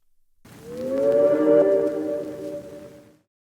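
A reversed chord swells in from nothing, a smooth sustained pad rising to a peak and sliding into a chord melody before cutting off abruptly, heard alone.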